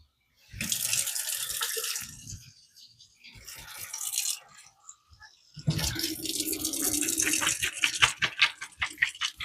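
Water is poured into chocolate mayo cake batter in a home kitchen, a hissing splashy stream in two bursts with a pause between, the second longer and bubbling.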